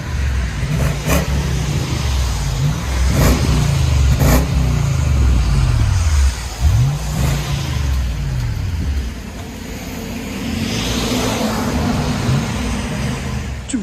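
A 2007 Toyota Land Cruiser V8 with a Borla touring exhaust revs repeatedly, each blip rising and falling in loud close bursts over a deep idling rumble, with a steadier run toward the end.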